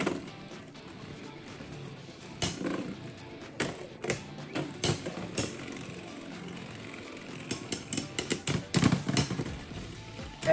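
Beyblade X spinning tops, including Hell's Reaper and Hell's Scythe, clash in a stadium, giving scattered sharp clicking impacts over a steady whirring rattle, with clusters of rapid hits toward the end.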